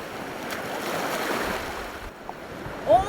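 Rough winter surf washes against the rocky Ulleungdo coast in a steady, broad roar, with wind buffeting throughout and a brief louder surge near the end.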